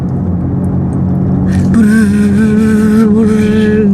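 A low hum in a Genesis GV60 Performance electric car shifts partway through into a louder, engine-like synthetic drone with rising tonal harmonics, its virtual engine sound.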